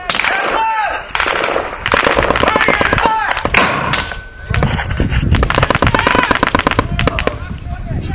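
Mortar and small-arms fire in a game operation, with sharp repeated blasts and rapid bursts crackling close and loud throughout, voices talking over them.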